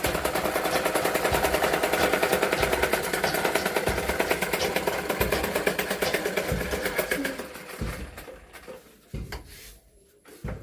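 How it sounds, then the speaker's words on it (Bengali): A sewing machine running double stitches, a loud fast rattling needle hammer that runs steadily for several seconds, then slows into short stop-start bursts. "দেখি কীরকম সেলাই করছে একদম ডাবল ডাবল সেলাই মারছে"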